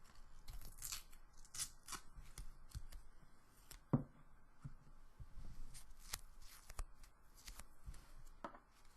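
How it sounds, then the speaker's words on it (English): Tape is torn for an origami Yoda in a quiet, close ASMR setting, with soft crinkly paper handling and one sharper rip near the middle. "I'll put a little tape on his back here"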